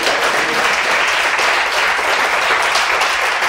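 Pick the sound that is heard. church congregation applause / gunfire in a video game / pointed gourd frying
church congregation applause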